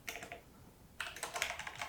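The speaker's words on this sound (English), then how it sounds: "Typing is getting worse as I get older." Fast typing on a computer keyboard while entering .NET command-line code, close-up clicks in two bursts separated by a short pause, with no talking.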